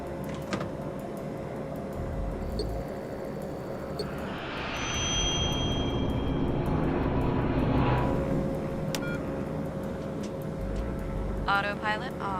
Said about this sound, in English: Continental Express Flight 2574 and its 11 passengers nears the end of its 1-hour flight from Laredo to Houston, Texas.